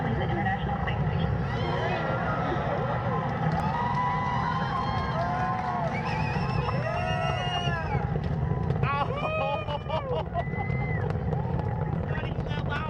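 Space Shuttle Discovery's launch is heard from a distance as a constant low roar under excited crowd chatter and several voices talking nearby.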